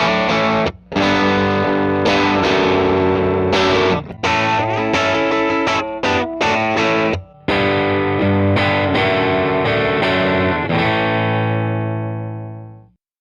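Electric guitar played through a Vox amp cabinet in a recording studio, miked up close: loud, driven and distorted chords and riffs with short breaks, ending on a ringing chord that fades out.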